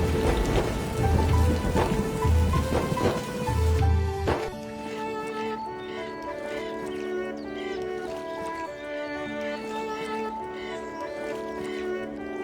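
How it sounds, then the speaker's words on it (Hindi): Heavy rain at night in a Hindi cartoon, a dense steady patter loud for the first four seconds, then thinning under a musical score for the rest. "रात को खूब बारिश हुई।"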